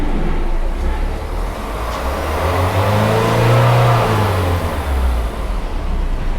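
A car engine revs after an engine carbon cleaning service, a loud steady idle rising into one smooth rev around the middle and settling back down.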